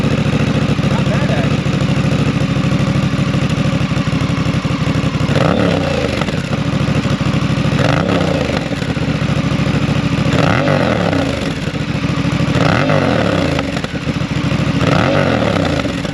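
Honda Rebel 1100 motorcycle idling with a new exhaust fitted with a baffle, a steady close throb with periodic blips of revving.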